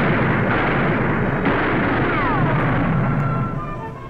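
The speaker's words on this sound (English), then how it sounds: "Everyone's hit by gunfire." A reenacted Wild West gunfight erupts into a dense, loud roar of gunfire and blasts that runs continuously and then eases slightly toward the end.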